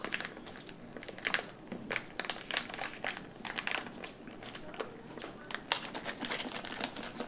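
A sealed foil emergency food pouch from a 48-hour kit is folded over and handled, making steady close crinkling and crunching for several seconds.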